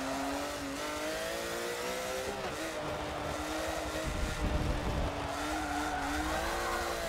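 Race car engine in Forza 7 holding a steady, loud drone through a hot lap, its pitch rising and dipping with gear changes, with a brief rougher burst near the corner.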